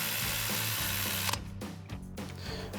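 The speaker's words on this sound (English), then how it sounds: "tighten that back down with our 10mm socket on our ratchet" A ratchet with a 10mm socket tightens a screw on a brake line bracket of a 2019-2024 GMC Sierra 1500, giving a loud burst of tool noise followed by a few sharp mechanical clicks at close range.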